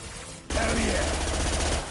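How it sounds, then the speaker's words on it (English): Rifle gunfire in Mass Effect 2 bursts in abruptly as a loud, rapid stream of shots close by, lasting over a second before easing off. "Oh, I love this rifle. Should burn through any armor."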